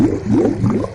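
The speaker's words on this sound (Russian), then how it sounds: "Это же водопад." Water from a forest stream gurgles and churns as it spills over a small waterfall, a steady close wash with rhythmic swelling surges throughout.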